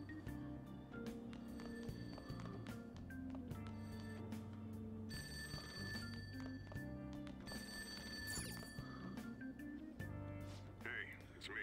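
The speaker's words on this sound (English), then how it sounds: "That ring sound. Is it coming from my cell phone?" Phone ringing in the video game Persona 5 Royal, a repeating bell-like ring heard over game background music, with voices talking throughout.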